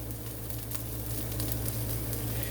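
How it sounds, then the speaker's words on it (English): A leftover omelet sizzles steadily in a frying pan with oil, a constant crackling hiss with no talking, fairly close. "So you can hear that sizzle."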